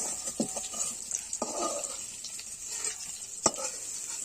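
Paneer pieces frying in oil with salt and turmeric in a kadai, giving a steady soft sizzle with a few scattered stirring scrapes and one sharp clink, no talk.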